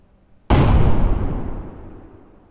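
A single grenade blast in the Deadside video game, a sudden sharp explosion that starts from near silence and then rumbles and decays over about two seconds, close and loud.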